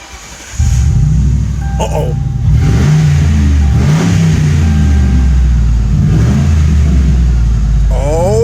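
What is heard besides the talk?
modified Ford Crown Victoria engine starting and revving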